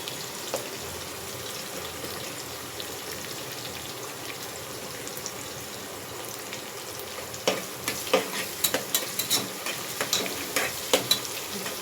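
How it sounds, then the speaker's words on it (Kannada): Vegetables for vegetable pulao roasting in a pan, a steady sizzle with scattered crackles that grows into sharper, repeated stirring clacks near the end; no voices. "ಸ್ವಲ್ಪ ಲೈಟಾಗಿ ಬ್ರೌನಿಶ್ ಬರೋ ಥರ ರೋಸ್ಟ್ ಮಾಡ್ಕೊಳ್ಳೋಣ."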